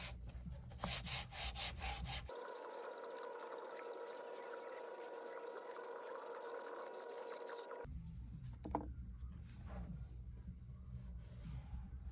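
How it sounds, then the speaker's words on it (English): A piece of canvas buffing a leather seat for an antique rocking chair, a soft continuous rubbing and brushing heard up close and faint, with an abrupt change in background partway through. "Now I'll buff it with a piece of canvas and make it really shine."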